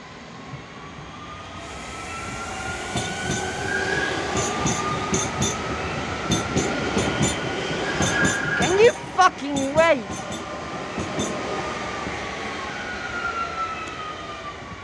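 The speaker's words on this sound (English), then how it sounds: "9-7 train is entering right now." A train pulls into Sant Isidre station with a steady rumbling roll building over many seconds, accompanied by a brief high tonal squeal or horn midway, heard from the platform under low talk.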